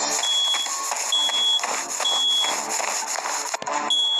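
A fire alarm goes off with a repeating high electronic beep in regular bursts over a loud, constant droning background, close and with no talk.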